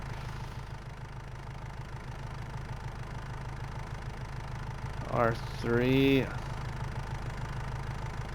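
A tractor engine idles in the Farming Simulator video game, a steady low mechanical hum running throughout at moderate level, with a voice briefly speaking over it near the end.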